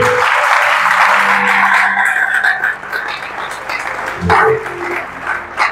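A church congregation breaks into loud, sustained applause that fills the room, dipping briefly and then swelling again near the end.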